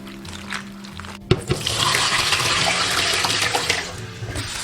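Black-skinned termite mushrooms rinsed under a running tap, a quiet opening handling noise giving way to a sudden steady splash and gush of water that continues loudly, with small clatters as the mushrooms are moved about.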